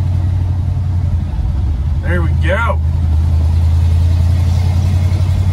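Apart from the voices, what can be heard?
car engine running and warming up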